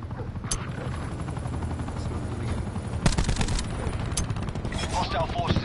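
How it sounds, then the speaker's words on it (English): Gunfire bursts and the thump of a hostile attack helicopter fill a tactical shooter game battle, loud and continuous with sharp shots around the middle and end. "Hostile attack chopper inbound."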